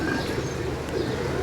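Pigeons coo softly in a brief moment, the low murmuring calls sitting within a dense, noisy outdoor background.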